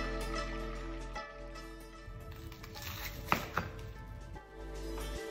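A knife cuts through cooked chicken thigh for katsu, with a few sharp taps on the board standing out over a steady low kitchen hum.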